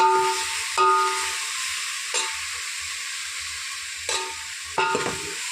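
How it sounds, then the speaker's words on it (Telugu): Coriander and curry leaves sizzle in hot oil in a cooking pan, a steady close hiss with a few sharp crackling bursts as more goes in, and low stirring clinks underneath. "ఇప్పుడు కొత్తిమీర, కరివేపాకు వేసాను."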